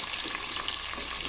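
Chopped onion and green chillies fry in a pan, giving a soft, even sizzle that holds steady with no pause.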